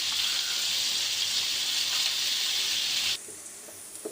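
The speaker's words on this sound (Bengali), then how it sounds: "এদিকে ডালটা বাগার দেওয়ার জন্য পেঁয়াজ আর রসুন কুচি দিয়ে দিচ্ছি।" Chopped onion and garlic hitting hot oil to temper dal, a loud steady sizzle close up that drops abruptly to a quieter hiss near the end.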